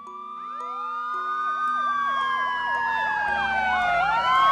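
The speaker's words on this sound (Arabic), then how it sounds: "نعم، إنها سيارة شرطة." A police car siren wails loud and close, several overlapping rising and falling tones sweeping continuously and building in intensity throughout.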